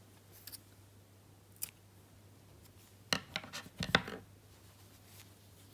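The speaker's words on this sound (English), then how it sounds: "now I will cut my yarn" Scissors snip through crochet yarn in a quiet room: a faint scrape, then a short cluster of crisp cutting clicks close by, with no talking.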